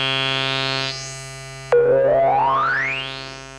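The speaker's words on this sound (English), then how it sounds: "The triangle here with a lot of metalizer on it to give it kind of a sharpness to it." An Arturia MatrixBrute synthesizer's triangle oscillator with heavy metalizer produces a bright, sharp, buzzy sustained tone rich in overtones. It cuts off abruptly, then returns with a loud, metallic pitch sweep that rises and fades.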